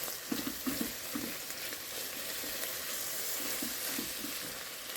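Onions, carrots and peppers fry in a pan while being stirred, giving a faint, steady sizzle with soft, rhythmic scraping taps under it.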